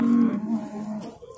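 A cow moos at the Shahrikhan district livestock bazaar in Andijan Region: one close, drawn-out low bellow that wavers and trails off, heard alone without talk.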